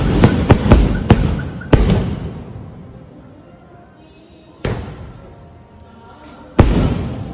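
Firecrackers at a New Year celebration burst in a rapid string of loud, close cracks, then single sharp bangs at long intervals, each trailing off into a ringing echo.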